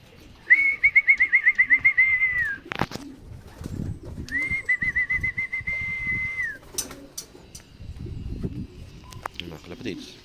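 Two bursts of warbling, trilling calls from racing pigeons at their home loft during a derby. Each burst lasts about two seconds and stands out over quieter rustling and low background noise, with a voice in the background.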